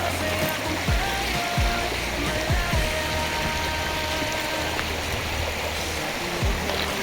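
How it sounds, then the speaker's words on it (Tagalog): Shallow, cold river at a riverside camp in Tanay, Rizal, flowing steadily with a constant rushing, bubbling wash, close and moderately loud, with faint tonal background sounds. "ito yung pinakailog namin"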